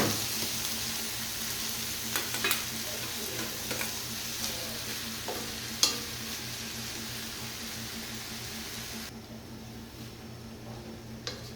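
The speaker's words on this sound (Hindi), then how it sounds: "इसमें डालूँगी चावल" Rice going into a hot pot for daal chawal, with a steady sizzle and a few soft clinks and stirring taps near the start, then the frying hiss fades toward the end, with no talking.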